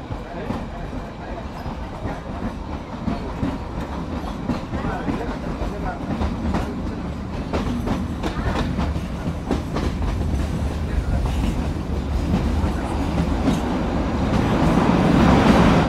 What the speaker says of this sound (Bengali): ট্রেন এসে পৌঁছালো পরবর্তী হল্ট বারোগ